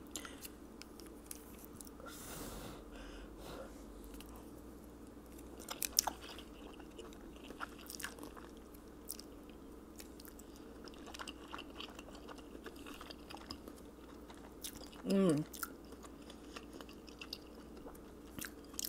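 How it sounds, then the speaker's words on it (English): Someone chews fish cake with cheesy ramen, producing soft, steady wet chewing and mouth sounds close to the mic with a few sharper slurps and crunches. "Let's eat it with this fish cake. These are so slippery."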